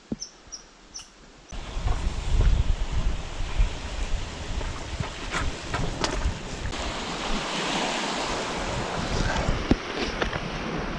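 Wind gusts across Batchewaung Lake in Quetico Park, a broad steady rushing roar with microphone buffeting and the wash of waves, loud and close after a short quieter opening.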